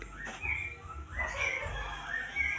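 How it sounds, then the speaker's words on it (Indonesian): Birds chirp and whistle in short, bright phrases at moderate distance around a home kitchen, over a low rumbling background with no one speaking. "Burung, Bu."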